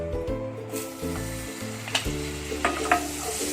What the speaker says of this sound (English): Now butter is getting melted.